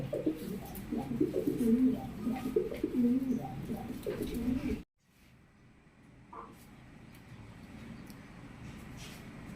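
Pigeons cooing at a pigeon farm, several birds making overlapping low burbling calls close by, then a brief cut to a quieter stretch with faint background noise.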